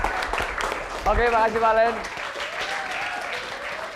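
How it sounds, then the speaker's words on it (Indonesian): A studio audience applauds a contestant on a TV dating-game show, with clapping running underneath while a host speaks over it and a voice rings out with a brief sung or drawn-out call. "Oke, Valen, tepuk tangan."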